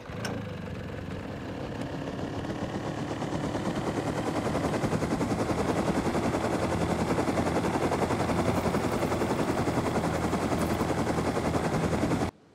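An aircraft flies in the Rust video game with a loud, steady, rapid mechanical chopping drone that holds constant and swells slightly before cutting off abruptly.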